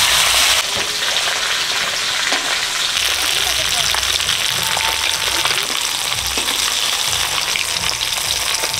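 Fish frying in mustard oil gives a loud, dense, continuous sizzle and crackle close by, holding steady for the whole stretch, with a few sharper pops and no talking.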